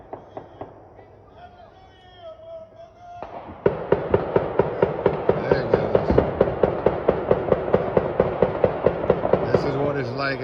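A neighborhood New Year's celebration erupts into a rapid, steady string of sharp firecracker bangs, loud and close, after a few scattered early pops.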